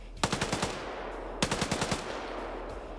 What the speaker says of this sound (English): He's shooting at the wheels.